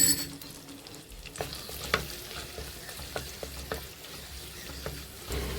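Curry leaves, ginger and onion sizzle in a pan while being stirred for a fish curry. A soft, steady frying hiss sits under scattered scrapes and clicks from the stirring, with no speech.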